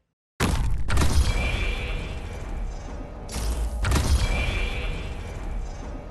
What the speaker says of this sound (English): this hasn't sold you already on Texas Alter, here is the skill 3 sound effect